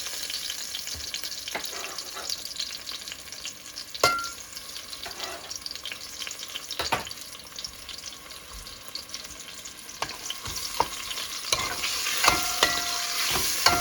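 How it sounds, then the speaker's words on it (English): Tomatoes go into a pan of frying tomato paste for beans and rice, producing a steady sizzle with scraping spoon stirs and occasional knocks against the pan, close and without speech. "So now I add the tomatoes."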